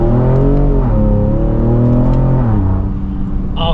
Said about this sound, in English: we're going to start this drive portion with an acceleration